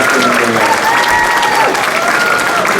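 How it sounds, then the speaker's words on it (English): A loud, dense round of audience clapping for the class X students at a dojo awards celebration, continuous throughout, with faint voices mixed into the crowd. "Let's clap for our class X."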